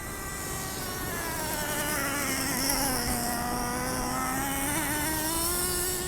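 A Traxxas Revo 3.3 nitro RC monster truck engine runs at part throttle while warming up, giving a steady, buzzing high-pitched drone whose pitch drifts gently up and down without pause.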